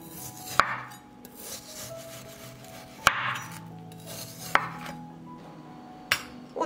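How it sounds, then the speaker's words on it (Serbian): Knife slicing frozen meat thinly on a cutting board, heard as four distinct sharp chops spaced about one and a half seconds apart, with faint scraping in between, close and with no talking. "I secite ovako što tanje."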